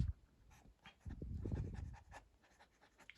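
Fountain pen with a double broad nib custom-ground to an Architect grind scratching across paper in short, faint strokes, quiet and close with soft pauses between marks.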